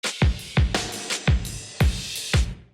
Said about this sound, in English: the sample snares